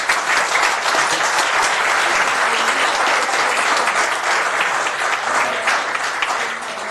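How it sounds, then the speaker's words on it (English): Sustained applause fills a city housing authority meeting, a dense, steady wash of clapping from a seated audience that holds strong throughout and eases slightly at the very end. "So let's give them a round of applause."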